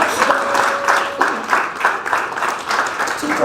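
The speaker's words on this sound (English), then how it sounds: "Let's welcome him with a round of applause" A round of applause from an event audience welcoming a keynote speaker, continuous clapping that swells in waves, with a voice briefly audible beneath it.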